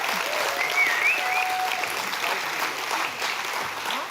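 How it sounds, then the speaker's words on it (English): A seminar audience breaks into a dense, steady round of applause that holds at full strength for about four seconds, with a few scattered cheers mixed in. "Give them a round of applause."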